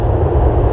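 A train rumbling along in Grand Theft Auto IV, a steady, loud low-frequency roll with no break over the short stretch.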